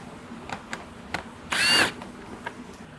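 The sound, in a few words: power drill removing screws from plastic wind guard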